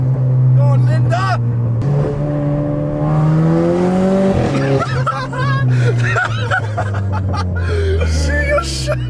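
A loud 1.6-litre 250bhp Clio RS engine revs and drones, rising and falling in pitch, while people laugh and shout excitedly nearby.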